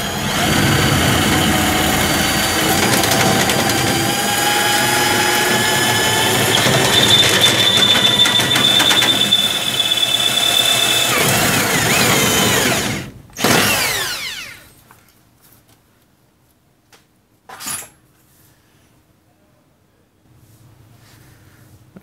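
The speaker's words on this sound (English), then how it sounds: "we're going to drill this 1/4-inch hole out to 1/2 inch" A power drill bores a 1/4-inch hole out to 1/2 inch while a seat belt bracket is fabricated for a Fairmont MT19A railroad motorcar, a loud steady whine with a faint high tone, then a clunk as it stops, with a brief later clatter and quiet afterward.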